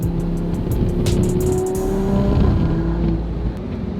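Steady engine drone from inside a car, a low rumble with a rising tone as it accelerates, loud and continuous.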